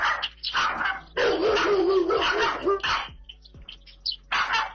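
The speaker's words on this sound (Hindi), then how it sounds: "जॉन सीना जाग ही जाता है, जैसे कि यहाँ ये डॉगी अंदर केज में बंद बड़े कुत्ते पर अपना रौब झाड़ रहा है" A small dog barks and yips repeatedly at a large dog shut in a cage, the sharp, close barks coming in bursts with brief pauses, one long stretch of barking in the middle, and no speech.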